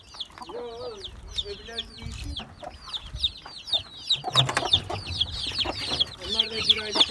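Chickens cluck steadily while chicks cheep in high, rapid peeps close by, with a person speaking briefly underneath the flock.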